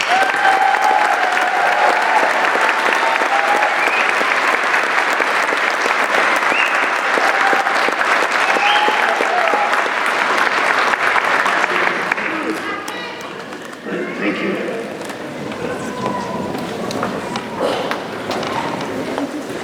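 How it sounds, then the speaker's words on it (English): Loud, sustained applause from a large convocation audience honouring standing graduates at a ceremony, a dense roar of clapping that eases slightly near the end as voices murmur underneath. "Let's give them another round of applause."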